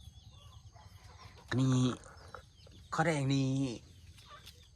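Chickens on a Thai coffee-garden farm give two loud, drawn-out squawking calls about a second apart, standing out over steady background noise while people talk nearby.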